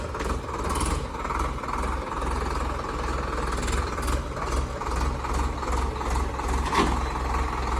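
A Swaraj 855 tractor engine runs steadily, with a continuous low rumble and a throbbing idle held for the whole stretch, fairly close and without any speech.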